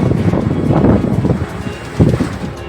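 Strong storm wind in Ahmedabad during heavy rain, a loud continuous rumbling roar that buffets the microphone in gusts.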